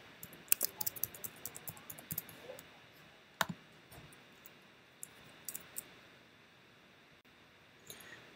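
Light clicking and tapping of keys as a password is typed on a computer keyboard, scattered irregular strokes in a quiet room with no talk.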